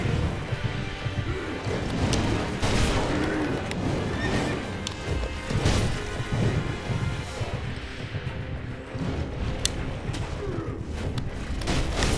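A spooked horse in Sekiro whinnies and neighs loudly amid clattering hooves and scattered firecracker crashes, a busy close mix lasting several seconds.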